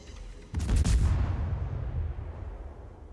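A Smolensk cruiser in World of Warships fires a single deep, booming salvo that cracks sharply, then rumbles away over a few seconds.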